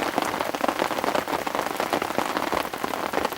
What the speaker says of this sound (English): it was going to be rainy on and off all day